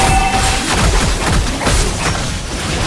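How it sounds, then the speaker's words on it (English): Fireworks explosions in the Mobile Legends video game: loud, dense bursts of booms and crackling crashes follow one another steadily for a few seconds, with no voices. "Here comes the fireworks!"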